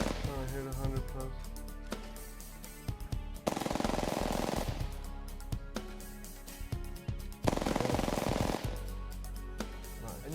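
Rapid automatic gunfire in Apex Legends strafe shot aim training comes in rattling bursts, with two denser, louder volleys and a voice talking over the shooting.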